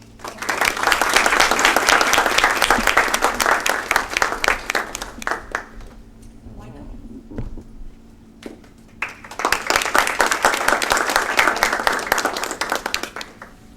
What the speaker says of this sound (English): I know you're clapping because I'm going to be brief.